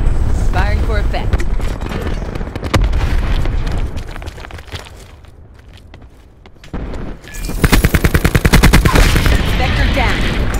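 Loud bursts of machine gun fire and explosions in a military video game, with rapid repeated shots that come in dense volleys near the end. A quieter stretch sits in the middle, and a voice speaks over parts of it.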